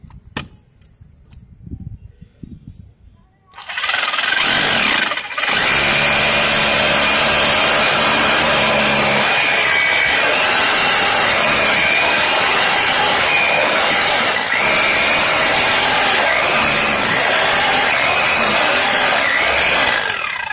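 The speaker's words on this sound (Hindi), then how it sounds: "उस निशान पे हम छेद करेंगे" A power drill bores holes at marked spots during an ABS fitting job, a loud continuous whirring grind that starts after a few quiet seconds and runs steadily to the end with slight dips.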